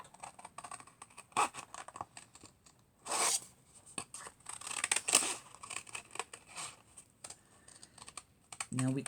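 A card template for a 5x7 holiday card being cut along its traced lines: close, crisp snipping and paper rustling in short bursts, with some talk in between.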